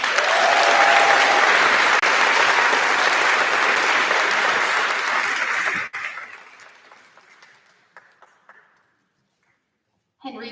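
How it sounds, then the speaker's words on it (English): Loud, dense applause from a crowd at a pinning ceremony for several seconds, then it fades out to silence before a brief burst returns at the end. "we'd still like to give a round of applause"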